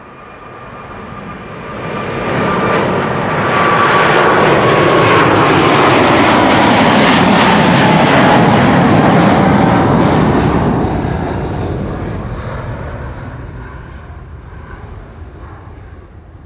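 A KLM jet departs Schiphol's Kaagbaan runway 24 bound for Lima, Peru, its engine roar swelling loud and close, holding a sustained peak, then slowly fading as it climbs away.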